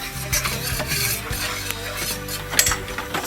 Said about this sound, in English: poured all the steak juice and all the steak seasoning and everything is on the pan